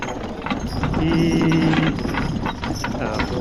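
Horses' hooves clip-clop steadily on the ground during horse logging, amid a noisy outdoor background, with a faint low hum under the trotting rhythm.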